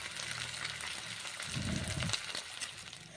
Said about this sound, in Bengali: নরম মাছ তো খুব আলতোভাবে ভেজে নিচ্ছি, হালকা করে তুলে তুলে নিচ্ছি